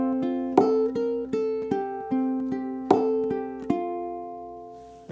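A guitar ending rings out with slow, spaced strums and single plucked notes, each chord sustaining and decaying before the next, played alone and clearly.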